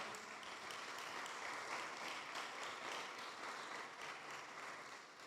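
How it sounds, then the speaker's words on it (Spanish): Church congregation applauding, a steady wash of many hands clapping heard from a distance, faint and even throughout. "Dele fuerte el aplauso al Señor."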